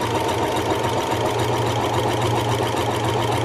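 A Singer 6805 sewing machine zigzag stitching to join pieces of blanket fabric, a loud, steady mechanical whirring hum with rapid needle clatter running continuously throughout.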